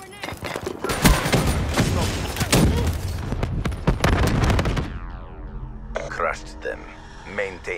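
Grenade blast in Call of Duty: Black Ops III multiplayer, heavy thumping explosions and rapid gunfire bursting loudly for several seconds before cutting to quieter announcer talk and interface sounds.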